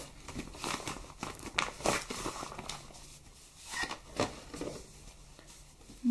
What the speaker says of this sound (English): A plastic packing with a zipper. And when you open this,